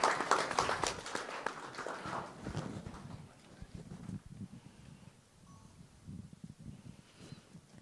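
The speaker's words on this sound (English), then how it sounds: "Let's have another round of applause for Andy" Audience applause at an international interior design awards finale, a dense burst of many hands clapping that is loudest at the start and then thins into scattered claps and a low murmur.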